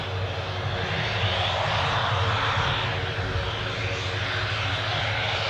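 Ryanair airliner engines roar at Newcastle Airport, a broad, steady jet rumble heard at moderate distance that holds constant throughout with no speech.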